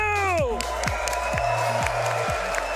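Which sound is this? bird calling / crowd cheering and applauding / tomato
crowd cheering and applauding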